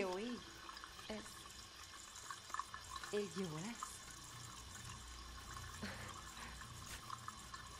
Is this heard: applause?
no